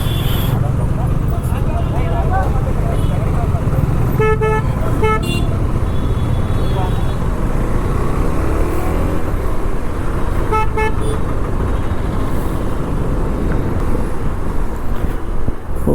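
Heavy highway traffic in India, with dense engine and road noise throughout and car horns honking several times in short bursts, loud and close, as heard from a KTM 390 Adventure motorcycle ride.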